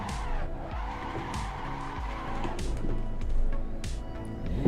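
A car's handbrake is pulled in a driving game, and the tires skid and squeal over a throbbing engine in a continuous, moderately loud slide that builds slightly toward the end.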